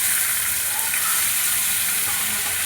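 Chopped onion and tomato sizzle and fry in a hot pan for a pickle, a dense, continuous hiss held at an even level throughout.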